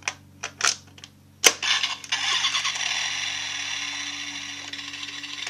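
Kamen Rider Accel Driver toy belt playing its electronic startup engine sound after a few clicks of the switch, a sharp click then a sustained buzzing synthetic revving drone, close and moderately loud with no talk.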